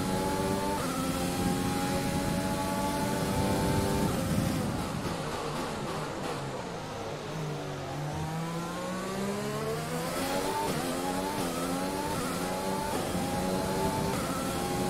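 Racing car engine in F1 2020 at the Canadian Grand Prix, revving hard with rising and falling gear-change whines, a driver's car screaming up through the gears and backing off, loud and steady with no talk.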